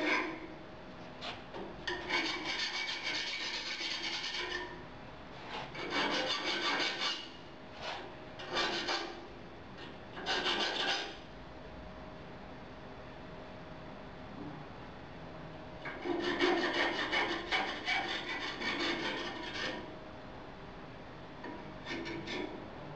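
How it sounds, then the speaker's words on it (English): Rasping, rubbing strokes of a file or abrasive working the burrs off a freshly cut Bowie/tracker knife blade, coming in short bursts with pauses, the loudest run near the end. "Here I'm just cleaning off some of the burrs from the cutting."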